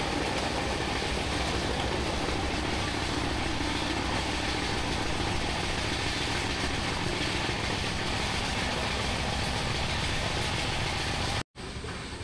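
A passenger train rolls along near Kolaghat station, its steady dense rumble and rattle of wagons filling the clip at close range, continuous and loud until a brief dropout just before the end.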